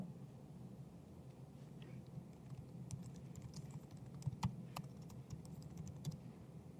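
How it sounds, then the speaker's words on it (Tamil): Computer keyboard typing while writing code, a soft, uneven patter of key clicks with a few sharper taps, close but quiet over a low background hum. "இப்போ நான் வந்து ஒரு சின்ன கோடு எழுதுகிறேன்."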